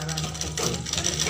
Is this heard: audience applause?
no